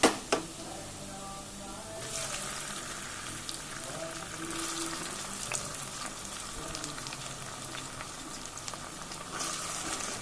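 Tomatoes and browned onions frying over a medium flame for a spicy Muslim-style mutton dish, a steady close sizzle with bubbling and a couple of sharp knocks at the start.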